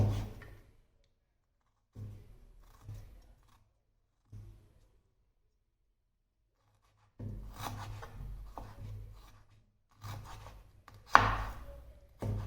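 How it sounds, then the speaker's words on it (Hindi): A knife chops radish leaves finely on a board in a home kitchen, giving bursts of quick, close, rhythmic taps separated by pauses. "इस तरह से छिलकों को पहले निकाल लीजिए, उसके बाद बारीक कट कर लीजिए।"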